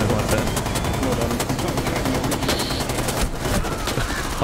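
Gunfire in Rainbow Six Siege rattles on almost without pause, loud rapid automatic shots layered with other weapons, close and dense, with faint voices underneath.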